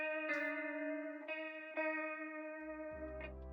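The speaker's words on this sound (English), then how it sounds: "And this is what it sounds like when I turn on the effects." Guitar run through effects and equalization in a trap-style production, sustained bright notes with re-plucked attacks and a shimmering chorus-like wobble, ending as a deep bass tone enters beneath it.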